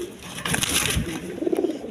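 A breeding pair of pigeons with eggs and young coos nearby, a short soft throaty coo rising briefly over faint background noise.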